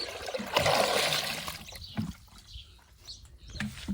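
Water splashes and trickles as it is poured to fill a pigeons' basin, a close burst of pouring followed by intermittent dribbles and small knocks, with faint bird sounds around.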